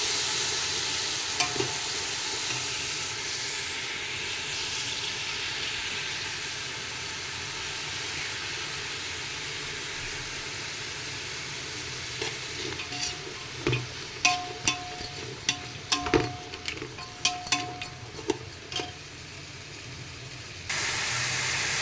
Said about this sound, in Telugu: చూడండి ఫ్రెండ్స్, ఆనియన్ ఎంత మంచిగా వేగుతుందో. మంచిగా ఫ్రై అవ్వాలి.